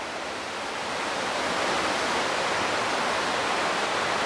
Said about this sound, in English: And actually you can see this waterfall from a window.